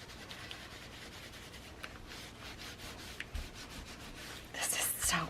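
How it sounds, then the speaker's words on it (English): Rubbing strokes of a burnishing tool over foil on a craft project, a steady soft scraping texture near the mic that swells louder and brighter in the final second. "Then I'm going to do a little burnishing."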